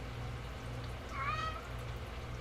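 A cat meows once, a short, clear, rising-falling call heard at close range over a steady low household hum, with no talking.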